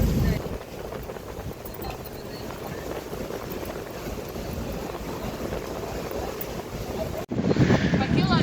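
Wind buffets the microphone on a boat trip near Torcello in Venice, a loud continuous rumble with water noise, cut by a brief drop before the gusts return.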